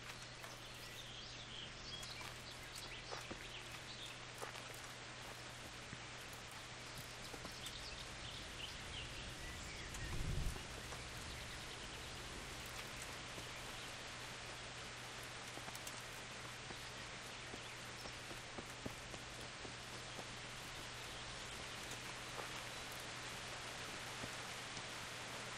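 Steady, soft rainfall hiss in the game Kingdom Come: Deliverance continues throughout, even and unbroken, with a brief louder patter near the middle and no voices.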